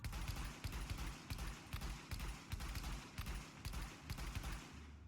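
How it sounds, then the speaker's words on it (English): A marksman rifle in the video game The Division fires at full speed without aiming: about a dozen loud, sharp shots in a quick, steady rhythm, each ending in a short low boom. "let's check out if we fire this weapon at full speed without allowing it to aim"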